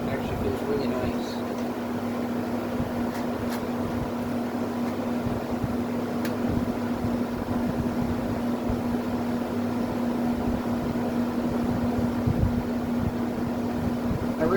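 A GE/Haier 10,000 BTU air conditioner using R32 refrigerant runs at close range, giving a continuous even hum with a steady motor drone and fan rush.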